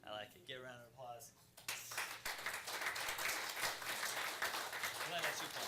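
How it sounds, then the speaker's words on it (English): Applause from an audience at a city council meeting, starting after a brief stretch of talking and continuing as steady, dense clapping in a room, recorded fairly quietly. "Give a round of applause."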